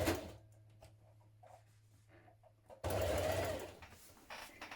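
A sewing machine stitches a blouse seam, starting with light handling noises and a low motor hum, then a louder burst of fast, close stitching near the end.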